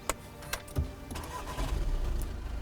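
A Volkswagen Passat engine is started with a few clicking cranks, then catches and settles into a steady low idle. The sound is close and moderately loud.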